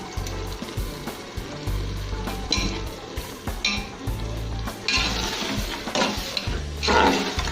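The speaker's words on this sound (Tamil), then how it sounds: "இப்போ இந்த ஸ்டேஜில் நம்ம வந்து தயிர் சேர்க்க போகிறோம்." Yogurt is stirred into sizzling masala in a pot for mutton biryani, giving a loud, close frying hiss with repeated scraping stirs and occasional clinks of utensil on metal and no talking.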